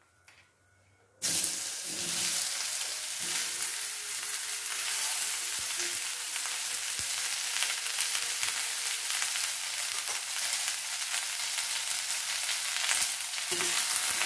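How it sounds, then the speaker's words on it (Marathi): Chopped bottle gourd added to hot oil tempered with mustard seeds, asafoetida and turmeric, bursting into a loud, steady sizzle that continues for over ten seconds with occasional stirring. "आता मी त्यात चिरलेला दुधी भोपळा घालणार आहे"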